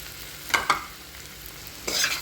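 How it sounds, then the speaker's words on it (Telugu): Grated coconut being stirred into a frying mixture in a pan, with a few soft scraping stirs over a faint sizzle and a short burst of scraping at the end. "కొబ్బరి బాగా కలుపుదామండి"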